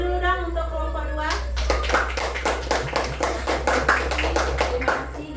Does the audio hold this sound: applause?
yes